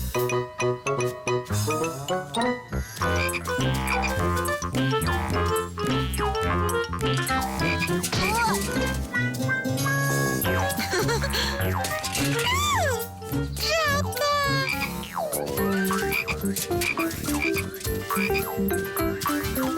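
Frogs croak in a cartoon frog-hunting scene, with repeated croaks mixed into busy music and jingly sound effects throughout.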